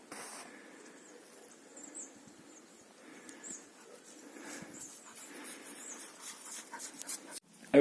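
A dog moves quietly through a wet pine forest with melting snow. Soft rustles and faint, thin whimpers come and go over near silence, ending in a louder close sound.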